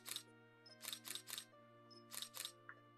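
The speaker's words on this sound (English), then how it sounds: "Jeebus, that shutter noise is hella loud." Single-lens reflex camera shutter firing in a series of quick double clicks, sharp and fairly close, with a steady low hum underneath.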